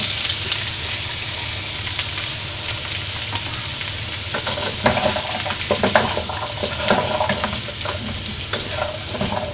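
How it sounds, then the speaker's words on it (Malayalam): Carrot, beans, onion and spring onion stir-fry in a hot pan for Kerala-style egg fried rice, with a loud steady sizzle throughout and scraping stirring strokes in the second half. "ഇത് ഇളക്കി കൊടുക്കാം."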